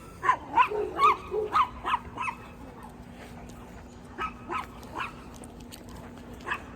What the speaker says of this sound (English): Dogs are going crazy.